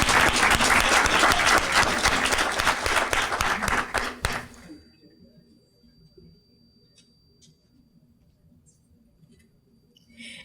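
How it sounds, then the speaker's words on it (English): Audience applause for a teacher award winner at an educator of the year ceremony, a loud dense burst of clapping from a full room that stops abruptly after about four seconds, leaving faint room noise and scattered small sounds. "Let's give Ms. English a round of applause."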